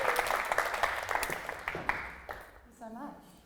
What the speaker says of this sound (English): Can we have a round of applause for our first guest speaker this evening,